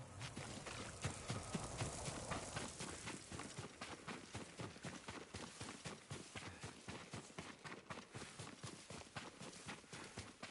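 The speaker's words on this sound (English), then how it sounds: "Yuriko's horse. She can't be far." Horse hooves clip-clop steadily in Ghost of Tsushima, a PS5 video game, with a fast, even rhythm of distinct close hoofbeats that continues without pause, and a brief whinny may sound early on.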